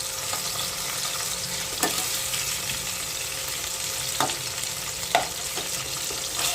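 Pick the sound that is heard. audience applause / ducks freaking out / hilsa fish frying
hilsa fish frying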